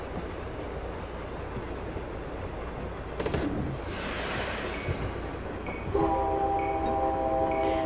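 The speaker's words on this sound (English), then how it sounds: "I usually like to honk before a station because it alerts the passengers their train is coming" Train Simulator 2016 passenger express on the Chicago–Aurora line, approaching a station: a steady rolling rumble of the train, then a loud sustained multi-tone horn sounds and holds toward the end.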